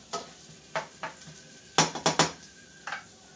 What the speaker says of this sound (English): that's going to saute up for a couple of minutes